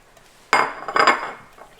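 Gelatin molds set down onto a plate: a sharp clink followed by a second cluster of dishware knocks and clatter about half a second later, close and moderately loud, then fading.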